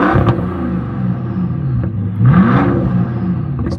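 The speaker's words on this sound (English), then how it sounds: "A very nice option on this car is a quick silver exhaust, which sounds absolutely incredible" A 2011 Bentley Continental Supersports with a Quicksilver exhaust revs from idle in a few short blips, a deep rumbling engine close by with a throaty swell near the middle, and no talking.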